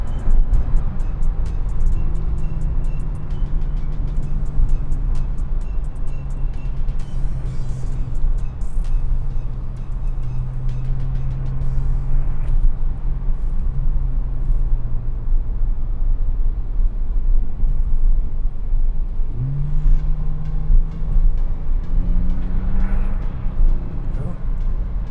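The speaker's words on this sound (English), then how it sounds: "Monster intake noise, doesn't it? You hear that?" A 2017 Porsche 911 Turbo S (991.2) drones steadily from inside the cabin, its intake note rising and falling in long sweeps with a surge near the end, while people talk over it.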